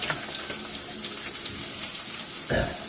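Water is poured into a sink and runs down the drain, a steady rushing splash throughout with a louder gush near the end.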